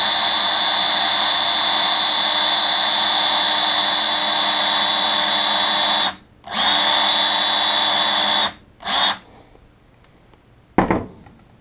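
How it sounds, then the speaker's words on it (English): A power drill bores a hole in a Catamount Fury magazine, a loud steady whine running continuously with two short breaks before it stops. A brief clunk follows near the end. "You can see where I'm drilling here and just keeping the drill straight."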